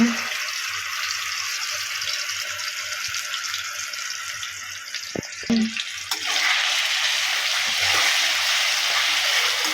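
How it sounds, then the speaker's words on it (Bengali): Spiced, marinated chicken fries in hot oil for chicken noodles, a steady close hiss and crackle that goes on throughout, with a couple of small knocks midway before the sizzle swells slightly louder. "চিকেনটা ভালোভাবে ফ্রাই করে নিচ্ছি"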